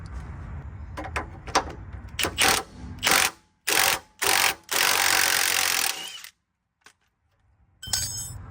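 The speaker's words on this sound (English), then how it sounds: "To remove the bottom of the end link, we'll have a 19mm wrench on the right side and 18mm socket on the left." A 19mm wrench and 18mm socket work the lower end link bolt during a 3/5 lowering job on a Chevrolet Tahoe, producing loud bursts of rapid ratcheting clicks separated by short pauses and a near-silent gap.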